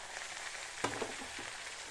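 Freshly chopped mustard greens hiss and sizzle faintly in a hot tempering of oil on low heat, a steady soft crackle with a brief sharper pop partway through.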